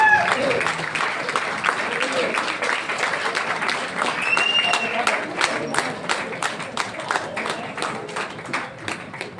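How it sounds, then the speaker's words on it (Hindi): A big audience claps loudly and steadily to welcome a guest speaker at an event, a sustained roar of many hands that tapers slightly toward the end, with crowd murmur beneath. "जोरदार तालियां होनी चाहिए।"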